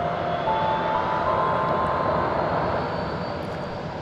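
A Boeing 737-700 airliner departing Dallas Love Field, with a loud, continuous jet engine roar that holds steady throughout.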